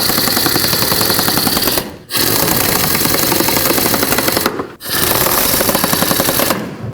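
Ratchet and socket wrench snugging power steering pump pulley bolts with a 10mm socket on a 2003-2021 Chevrolet Express, a loud rapid clicking chatter in three long bursts separated by brief pauses.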